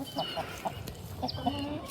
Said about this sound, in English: Oh, they got a fight going on here. Chickens do not like other chickens invading their territory.